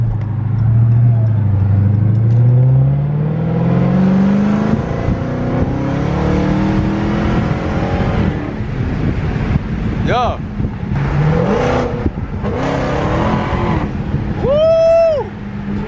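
Dodge Charger Hellcat Redeye with a performance mod accelerating hard through traffic, loud rising engine roar building steadily with wind rush and shouting voices.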